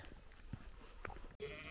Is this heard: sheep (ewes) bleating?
yes